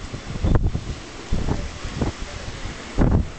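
Strong Hurricane Ike winds sweep across central west Houston, coming as repeated buffeting gusts that hit the microphone in loud bursts over a constant rushing background.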